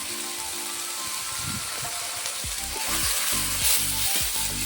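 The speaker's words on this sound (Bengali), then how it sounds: "দিয়ে মশলাটাকে ভালো করে ভেজে নেব" Spice paste frying in oil with dried red chilli powder and turmeric, giving a loud, steady sizzle close up, joined midway by rhythmic stirring scrapes, with no talking.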